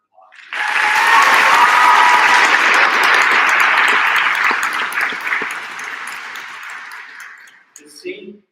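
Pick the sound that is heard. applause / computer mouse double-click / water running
applause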